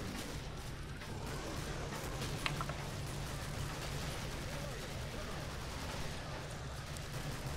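Rapid bursts of FN FAL rifle fire in Killing Floor 2, a continuous dense crackle of shots over heavy game noise, with voices talking over it.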